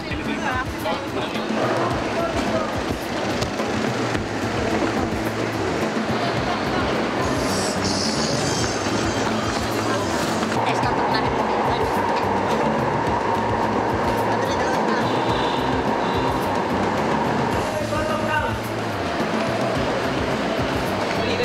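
An MRT train rumbles and rattles through Guadalupe Station with a steady low roar, a brief high squeal, and voices talking faintly throughout.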